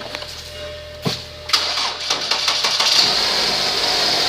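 A 2009 Ford Focus engine with 194,129 miles cranks with a few sharp clicks and turns over, then settles into a steady, fairly loud running hum heard up close.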